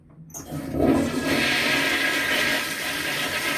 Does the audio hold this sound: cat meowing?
no